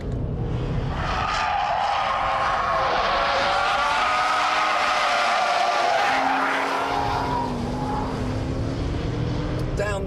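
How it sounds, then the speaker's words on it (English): A 400-horsepower car engine roars continuously under hard acceleration while the car drifts, with a downshift to second, revs rising and falling and tyre noise steady and loud for the whole stretch. "Constant acceleration, flick it down to second, listen to that engine."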